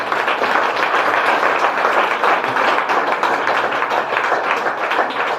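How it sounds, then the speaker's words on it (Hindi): A crowd at a Hindi-language health-products seminar gives a burst of enthusiastic applause, dense sustained clapping that stays loud and steady throughout. "तो एक बार जबरदस्त ताली दीजिए।"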